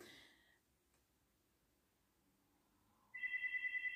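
Landline telephone ringing indoors, a single electronic ring pulse entering near the end after quiet room tone, fairly faint and alone.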